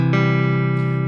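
A guitar chord voiced in close order, root, third and fifth, sustains evenly in a single full strum with a fresh attack near the end, close and clear without any voices.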